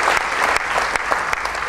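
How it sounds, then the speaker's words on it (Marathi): Sustained, dense applause from an awards ceremony audience honoring a recipient, loud and even throughout with no speech over it. "पुन्हा एकदा जोरात टाळून आपण टाळ्या वाजवून"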